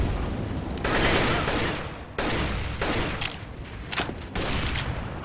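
Loud, close gunfire in a CS:GO matchmaking round, with several rapid bursts and volleys of rifle shots separated by brief pauses.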